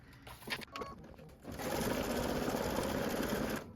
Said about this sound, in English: It's going to stitch the trimming line for the entire block.